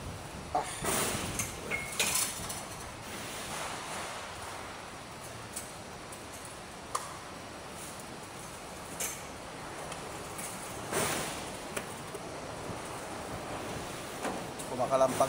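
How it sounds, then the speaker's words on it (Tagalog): Strong, gusty wind roars steadily outdoors, with scattered sharp knocks and rattles as loose objects clatter, and a voice speaks now and then beneath the noise. "Kumakalampag guys sa lakas ng hangin."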